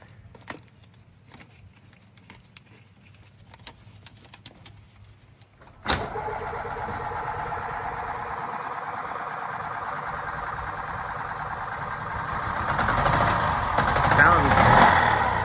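A Robin 295 engine in an EZGO TXT golf cart starts abruptly partway through after a quiet stretch, then runs at a steady, loud idle that swells slightly near the end, with people talking around it.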